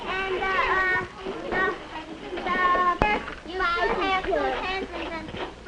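A busy room full of children chattering and calling out at once, with overlapping young voices and a sharp clatter partway through.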